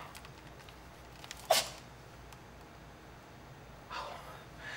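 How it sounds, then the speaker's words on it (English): A pet gives one short, sharp sneeze at a moderate distance indoors, followed later by a faint breathy snort against quiet room tone. "That was Tuco sneezing or something"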